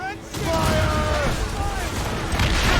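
Ship cannons boom in a naval battle in Assassin's Creed Rogue, loud overlapping blasts with rumbling tails, while sailors shout over the gunfire.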